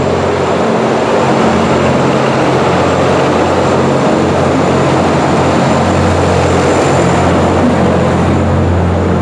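A small utility tractor used for hauling building materials and garbage rumbles steadily through the narrow streets of Jerusalem's old city, with a loud continuous low engine drone close by and no pauses.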